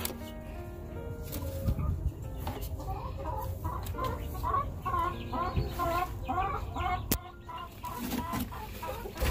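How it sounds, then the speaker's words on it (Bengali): Hens in a small backyard poultry yard cluck and call repeatedly at close range over a constant background hum, with faint voices in places. "এখানে একটি মুরগি কুরচা বসেছে"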